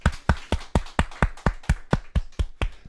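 Church congregation at an opening worship service claps in thanks, about a dozen sharp, evenly spaced claps in unison, close and clear with no talking.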